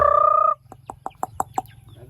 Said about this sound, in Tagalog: Magbibigay tayo ng bigas sa ating mga manok.